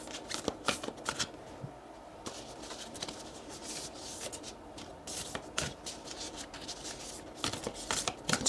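A deck of cards is shuffled close by, with repeated quick riffles and snaps in an otherwise quiet room, no talk.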